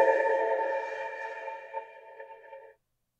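A sustained tonal sound processed with convolution reverb of a recorded real space, a bright ringing tail that decays smoothly over about three seconds into silence.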